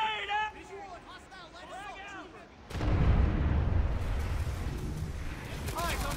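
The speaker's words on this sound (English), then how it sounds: "Throwing a grenade!" A grenade goes off in Planetside 2, a sudden loud low-heavy blast around the three-second mark, after which it rumbles and crackles with sustained battle noise. A voice speaks before the blast and again near the end.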